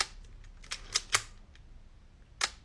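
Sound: Leica M6 camera shutter clicking

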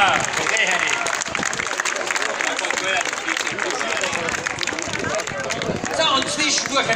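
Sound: audience applause for the brass band

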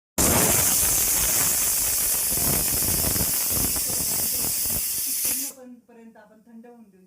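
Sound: pressure cooker whistling and releasing steam

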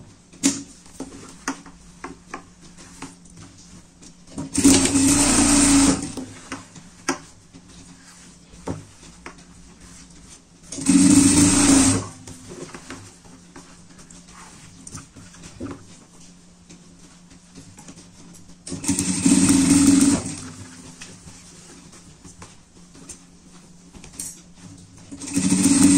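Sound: sewing machine sewing a triple stitch on a pet bed

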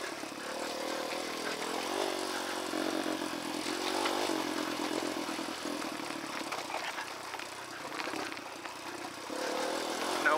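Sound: dirt bike riding downhill over rocks

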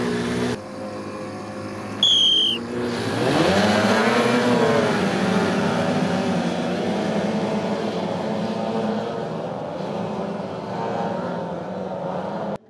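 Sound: racing motorboat engines

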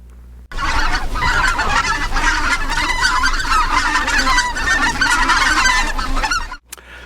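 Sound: greater white-fronted goose calls

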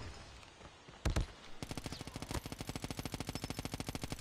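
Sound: gunfire from an LMG in the video game Call of Duty Mobile

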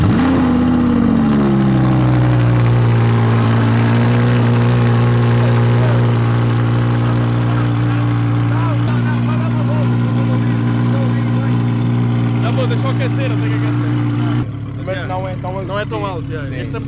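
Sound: car engine cold start, loud idling

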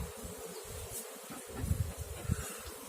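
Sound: honeybees buzzing in hive during inspection

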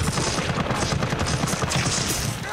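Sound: gunfire in the video game Resident Evil 3

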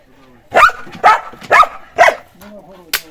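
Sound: dog barking

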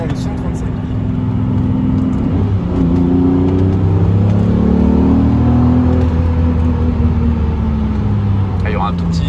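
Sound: V12 car engine revving

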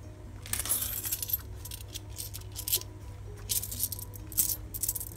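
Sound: coins rattling in an opened SHIPS mini wallet coin purse

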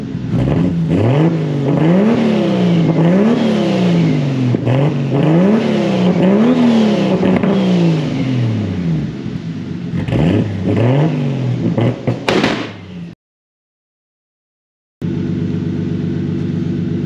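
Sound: Toyota Supra MKIV turbo engine revving with 4-inch exhaust

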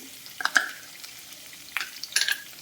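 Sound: tempering sizzling while frying in a pan for coriander-mint chutney

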